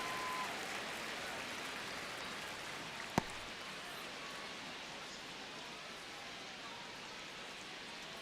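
Steady wash of stadium crowd noise in a Royals versus Giants baseball simulation video game during a tense ninth inning, a constant broadband roar with one brief sharp crack partway through, no one talking.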